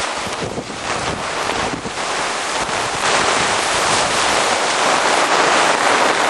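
Strong wind roars steadily against the microphone and tent fabric at a campsite during a thunderstorm, a dense rushing noise with gusty surges and no voices.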